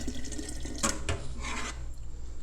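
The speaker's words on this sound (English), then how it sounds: "I'm not gonna fill it up all the way because I don't need to waste that water, but I'm gonna fill it up about a half a way." Tap water running into a glass jar being half filled for sprouting mung beans, a steady close rushing pour with a few brief splashy bursts and no talk.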